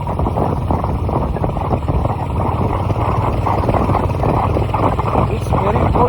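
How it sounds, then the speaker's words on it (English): Cold, gusty wind roaring across the microphone on a bike ride in Bhalukpong, Arunachal Pradesh, a dense continuous rumble that stays loud and close throughout. "The weather is very windy, cold."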